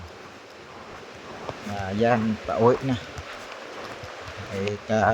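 Heavy super-typhoon rain hisses down with a steady rush of flowing water close by, while someone talks intermittently over it.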